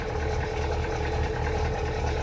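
A 6.9 diesel engine with a knock idles steadily up close, a low rumbling drone with a faint repetitive tapping pulse running through it, and nobody speaks.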